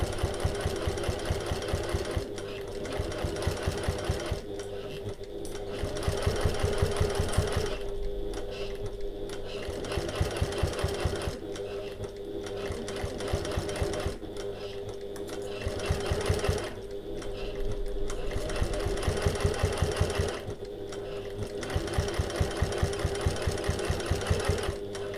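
A sewing machine stitches a getaway bag in a fast, steady rhythm, running in repeated bursts with short stops between runs.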